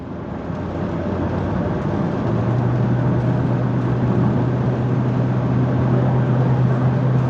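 A 2002 Cadillac Escalade cruising down the road, with a steady, continuous drone of engine and tyre noise inside the cabin and a low hum that rises slightly partway through.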